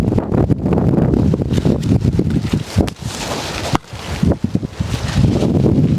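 Strong wind blowing through pruned mango trees ahead of Hurricane Helene, a loud continuous roar buffeting the microphone with rustling gusts and brief lulls, no talk.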